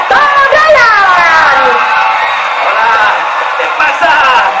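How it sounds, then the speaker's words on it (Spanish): A television studio audience greets guest Tom Holland with loud cheering: rising whoops and shouts layered over a roar of clapping, all close and sustained. "¡Un gran aplauso para Tom Holland!"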